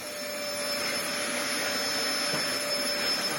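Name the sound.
Dyson vacuum cleaner running with a clog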